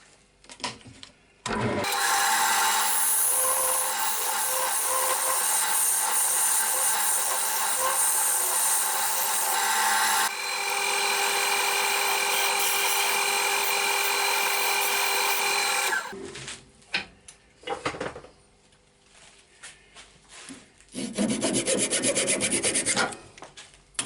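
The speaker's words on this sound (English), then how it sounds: "I'm going to carry on with my carbide cutter because that'll take quite a lot off quite fast." Carbide cutter shaving a wooden stem spinning on a lathe, a loud sustained scraping rasp for about fifteen seconds, then quieter intermittent scrapes and a final burst of cutting, with no talk.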